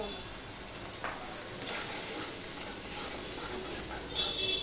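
Spice paste with ash gourd stir-frying in a pan, a continuous close sizzle and hiss with scraping stirring strokes and occasional louder spatters.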